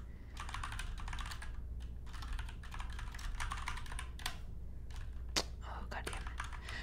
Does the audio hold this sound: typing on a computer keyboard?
yes